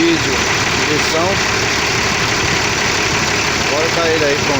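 A Cummins three-cylinder turbocharged diesel engine with injection idles steadily on a motorcycle, a loud, close, rough rhythmic chugging with a faint turbo whine that runs unbroken throughout.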